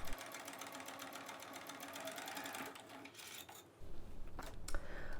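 Sewing machine stitching a 3/8-inch center back French seam on a cold shoulder top, running steadily at a fast rhythmic pace, close and clear, then slowing and stopping with fabric handling noises at the end.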